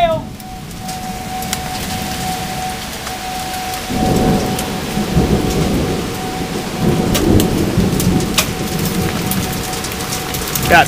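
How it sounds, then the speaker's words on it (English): A thunderstorm with steady rain and dense pattering on a surface, growing heavier partway through, with sharp ticks of pea-sized hail. "Got pea-sized hail coming down."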